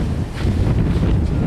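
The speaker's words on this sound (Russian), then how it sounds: "Погода, конечно, ветреная" Blustery wind at the seaside on a sea outing in Albania, a dense roaring buffet with low gusty rumble across the whole moment and no talking.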